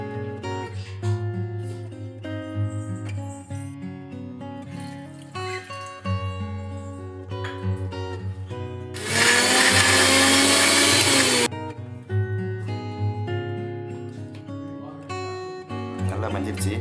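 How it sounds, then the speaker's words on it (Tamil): A kitchen mixer grinder runs in a loud, harsh burst of about two seconds while grinding garlic and chilli chutney with water, set amid background music. "அரைச்ச பிறகு கொஞ்சம் தண்ணி ஊற்றி நல்லா அரைச்சிங்க."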